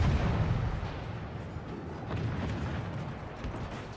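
Naval artillery fire in the World of Warships: Legends video game, a heavy rolling boom with deep rumbling that swells at the start and again midway, loud and continuous.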